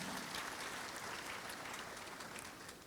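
A church congregation claps hands together in a dense, sustained wash of applause, faint and distant, fading slightly at the end.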